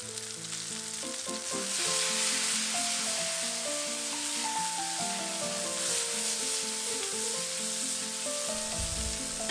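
Zucchini sizzles steadily in hot olive oil over high heat, a bright continuous frying hiss with light clinks and shuffling as pieces are moved around.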